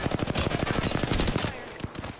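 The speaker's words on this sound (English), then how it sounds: "I'm taking shots" Rapid automatic gunfire from an Apex Legends match, a dense burst of shots fired steadily for about a second and a half, then a few scattered single shots after it.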